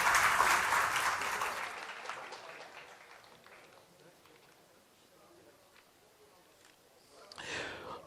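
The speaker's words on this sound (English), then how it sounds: "Ladies and gentlemen, a huge round of applause to Neha and the Internet Sathis, Lakshmi, Parva" Conference audience applause, a dense burst of clapping that starts loud and fades away over several seconds, then a brief renewed swell near the end.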